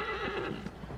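A horse neighs in the video game Shadow of the Colossus, a loud, drawn-out whinny filling the whole second with strong harmonic calls and faint hoof clatter beneath.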